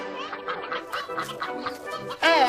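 Cartoon chickens cluck in a string of short, nasal calls, close and fairly loud, ending in a sharper squawk.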